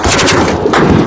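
A loud, close burst of rapid automatic gunfire from Houthi fighters fills the whole second, the shots running together into a harsh continuous rattle.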